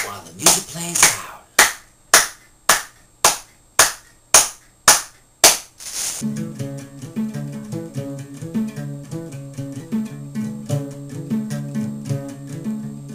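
Audience claps in sharp, evenly spaced beats, about ten strong claps, then akonting music takes over with steady plucked rhythm and lighter clapping beneath.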